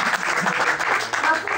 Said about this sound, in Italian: Quindi un applauso speciale.